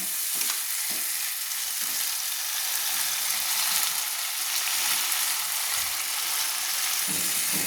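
Garlic paste masala cooks down in a pan for a cauliflower fish curry, giving a steady dense sizzle with scraping stirs, close and continuous with no talk.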